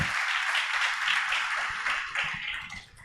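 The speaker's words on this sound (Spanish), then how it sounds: "denle un fuerte aplauso al Señor nuevamente" A church congregation applauds, a dense, steady wash of many hands clapping that fills the room at moderate loudness and thins slightly near the end, with a few voices mixed in.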